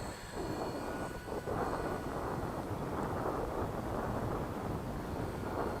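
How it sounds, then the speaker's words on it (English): Gusty wind roars steadily across the microphone outdoors in the Netherlands during a WLtoys V950 RC helicopter flight, a dense continuous rumble and hiss that lasts throughout. "There is more wind than I would have liked"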